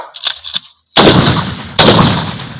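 Bursts of rifle gunfire at a firing practice follow a spoken command to fire: a few short sharp cracks, then two loud, close shots with long echoing decays and a brief silence between.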